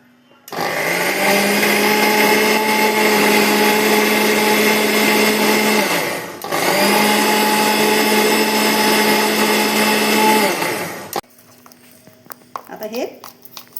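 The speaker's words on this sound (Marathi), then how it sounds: "थोडं पाणी टाकून बारीक मिक्सरमधून फिरून घ्यायचं" Mixer grinder whirring loudly as it blends gram flour and poha with a little water, running in two long bursts with a brief dip between, then cutting off to quiet with faint talk.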